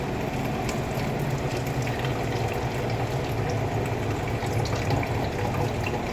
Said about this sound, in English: So I'm going to put the water into the 1 cup